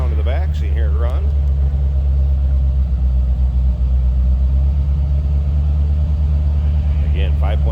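A 1986 Chevrolet Corvette convertible pace car with a 5.7 liter tuned port injected V8 idles steadily, a loud continuous low rumble heard close, with brief bits of a voice at the start and end.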